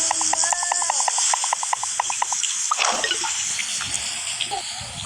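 Steady hissing spray of a running shower fills the clip, with a voice talking and some light tonal clinks over the water.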